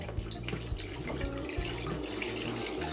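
Olive oil and white wine poured into a cooking pan for Greek-style mushrooms, a steady close liquid splash and trickle with no talking.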